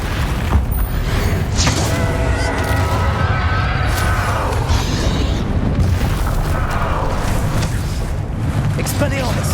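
A Confringo blasting spell explodes in the Hogwarts Legacy video game, a loud booming blast with rumbling debris among dense battle noise, while voices speak over the action.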